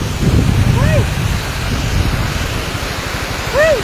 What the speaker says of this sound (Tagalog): Dako kay tubig. Dako kay tubig dyan.